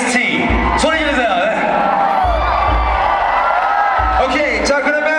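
Crowd at an R16 breakdance battle in Seoul yelling, whooping and cheering in loud bursts, with a host speaking into a microphone over the noise.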